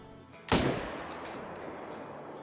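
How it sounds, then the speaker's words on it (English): A single rifle shot fired at a bull elk from about 180 yards in the hunting game Call of the Wild, one sharp loud crack that decays into a short rumbling tail over open terrain. "let's go for a 180 yard shot here and try and catch the heart on that bull"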